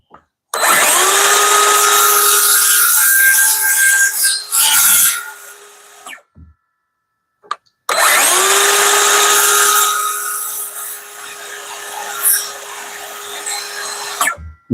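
A power tool sands wood on a mini truck camper build, whining loudly and steadily in two long runs, separated by a short pause with a few light knocks.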